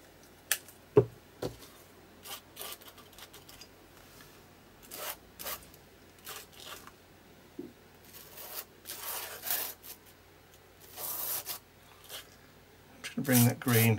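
Wet paint is scraped across a mixed media art journal page in short, close rasping strokes, some louder and longer than others, with quiet gaps between them.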